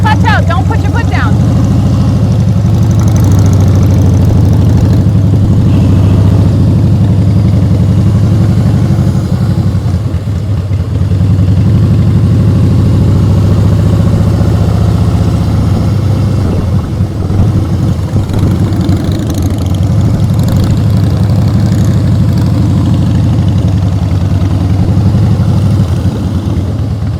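An engine runs steadily at a low, rumbling idle during clutch and throttle practice, with slight revving changes, loud and continuous under occasional talking.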